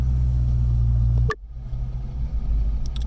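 A Foxbody Mustang with a newly installed Aeromotive 340 lph fuel pump rumbles at a steady idle, then cuts to a quieter, rough engine drone as it pulls away, with a few faint clicks near the end.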